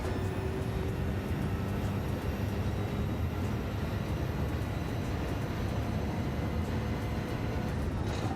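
A race car engine in a racing video game at the Suzuka circuit, a loud, sustained droning roar held at high revs with no pauses.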